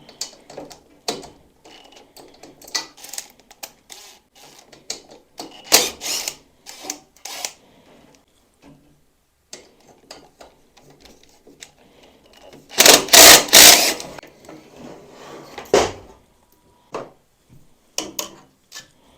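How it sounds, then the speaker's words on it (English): A ratchet works on the valve cover of a Kohler Courage 20HP engine, close-up bursts of clicking and rapid rattling come in uneven spurts, with one longer, louder run of clicks midway and quiet gaps between. "We're gonna start off, guys, by removing the valve cover."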